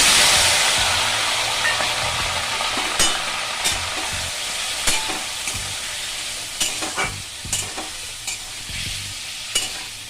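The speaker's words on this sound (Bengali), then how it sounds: "চিংড়ি মাছটা দিয়ে দিলাম" Prawns frying in mustard oil with dry red chilli and nigella seeds for chingri posto, giving a strong hissing sizzle that eases slightly over time, broken by repeated scraping stirs close by.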